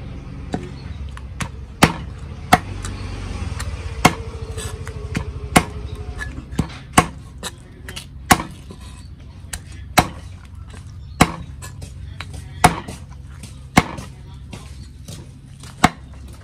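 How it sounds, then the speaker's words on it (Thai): Knife chopping duck meat into thin slices for a Thai-Lao duck larb: sharp, regular thuds on a board, about one every second, close and clear over a low background hum with no talk. "เนื้อเป็ดเฮาสิมาซอยบางๆครับ"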